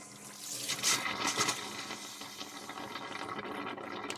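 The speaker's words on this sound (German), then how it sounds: "Und jetzt fluten wir erstmal den Boiler mit 10 Litern." Water rushes through a tap as a camper van's boiler is filled with 10 litres, a fairly faint, steady hissing flow with a brief stronger surge early on, and no voices.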